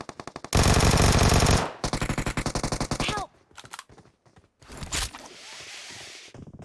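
Loud bursts of automatic gunfire in the mobile battle-royale game PUBG Mobile: a long sustained volley, then a rapid rattling string of shots, followed by scattered quieter single shots and game noise.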